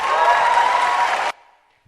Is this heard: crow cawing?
no